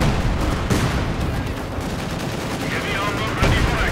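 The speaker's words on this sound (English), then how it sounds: "By the looks of it, a strafing run." Rapid gunfire from an aircraft strafing run in the Company of Heroes 2 real-time strategy game, a dense sustained burst of shots with booming impacts throughout and a caster's voice over it.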